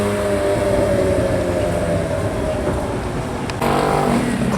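GT3 supercars arrive on a street in Cannes with a loud, close, rumbling engine roar that holds steady, then a sharp burst of acceleration near the end.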